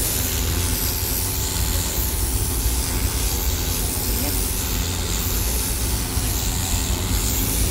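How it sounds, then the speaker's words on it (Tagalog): A pressurized spray washer blasts grime off a surface, giving a loud, steady broadband hiss that runs unbroken through the whole stretch, with muffled voices faintly in the background. "So makikita po natin yung libag natatanggal dun sa pressurized na spray."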